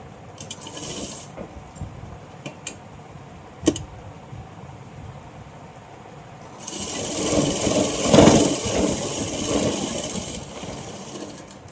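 A sewing machine stitches Patiala pant fabric, first a few light clicks and taps, then a louder, continuous mechanical whirr of running stitches that lasts several seconds before easing off.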